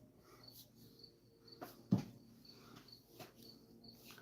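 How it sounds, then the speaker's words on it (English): Faint, steady cricket chirping fills a quiet night, with a soft thump partway through. "There are a lot of crickets here."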